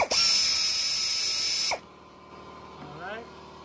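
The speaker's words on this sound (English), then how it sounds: "you're gonna take off the 7mm clamp for the hose right here" Electric power tool whirs loudly for under two seconds while removing a 7mm hose clamp on a 2009-or-later Volvo S60 air filter box, then cuts off abruptly, leaving faint rattling behind.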